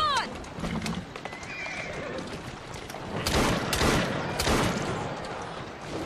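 A horse in the video game Assassin's Creed Syndicate gives a loud whinny at the start, followed by clip-clopping hooves, bursts of gunfire and busy game noise, with no one talking.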